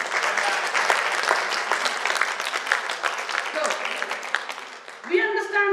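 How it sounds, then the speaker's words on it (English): A seated audience at a DXN health talk on Ganoderma gives a sustained round of applause, dense and steady clapping for about five seconds before a voice starts speaking over the last moments. "Give a round of applause to our DXN."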